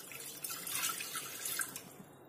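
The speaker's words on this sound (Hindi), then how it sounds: "गैस पे मैंने कुकर रखा है और इसमें मैं ये 1 गिलास पानी ऐड करूंगी।" Water is poured from a glass into a pressure cooker on a gas stove, a faint, brief splashing trickle with soft drips, close and quiet.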